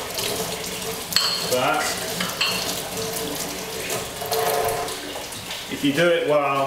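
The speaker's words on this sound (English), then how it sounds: "These are gonna go over to the sink here and be washed." A kitchen-style sink tap runs steadily as glaze-covered pottery tools are rinsed under it, water splashing and clattering close by while someone talks over the flow.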